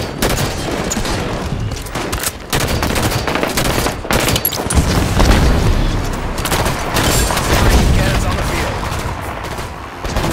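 Heavy gunfire and booming blasts in a Halo 5 Big Team Battle capture-the-flag match on the Basin map, dense rapid volleys and repeated loud explosions filling the scene, with voices talking underneath.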